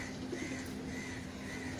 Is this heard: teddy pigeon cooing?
yes